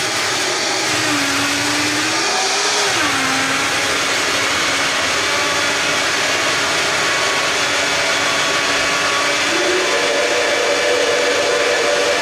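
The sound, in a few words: blender blending raw vegan salad dressing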